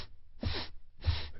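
Two short, forceful breaths drawn through the nose during a breathing exercise, close and clear against near silence.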